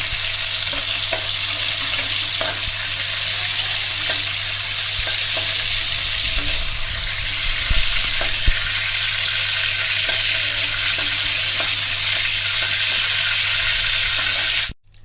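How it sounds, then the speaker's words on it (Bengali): Fish frying in hot oil in a wok for a traditional Bengali jackfruit and prawn dish, a steady loud sizzle that runs without break, with a few stirring clicks and no talk, cutting off at the end. "তেল গরম হয়ে গেছে, এবার মাছগুলোকে আমি ভেজে নিচ্ছি।"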